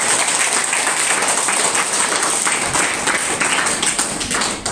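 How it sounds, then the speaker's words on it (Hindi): Loud, dense applause from an audience gathered at a No Bag Day school event in a Rajasthan village, clapping filling the room steadily and close by without pause. "एक बार सभी जोरदार तालियों के साथ।"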